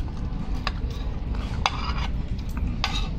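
Crispy deep-fried sea bass with fish sauce being broken apart at a Laem Charoen seafood restaurant, heard as several sharp crackling crunches close by over a low background hum.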